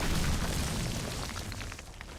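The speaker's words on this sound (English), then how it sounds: "There's no other way to describe the explosion other than wow." A doomsday device detonates in the video game The Lost Crown, a loud, sustained booming roar that rumbles heavily from the start and slowly fades over about two seconds.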